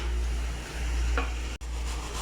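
Dried loitta fish fries in hot oil in a home kitchen pan with bay leaves, giving a steady, close sizzle with a stir or two and a brief clatter near the end, with no talk.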